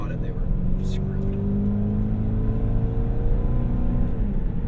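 Interior sound of a 1998 Lexus GS400 V8 pulling under acceleration, a steady deep engine drone with rising pitch and road rumble, with people talking inside the car.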